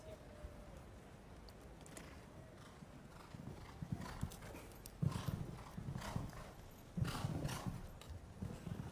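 A horse's hooves thud in a galloping rhythm across a show jumping arena at Aachen, with brief snorts, starting faint and growing louder and nearer in the second half.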